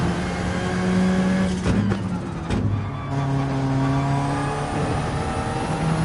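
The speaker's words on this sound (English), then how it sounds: "I'm running a Group 3 car with 0 TCS." Group 3 race car engine at Monza in a racing video game, holding a steady loud drone with pitch shifts and brief gear-change dips, continuous throughout without talk.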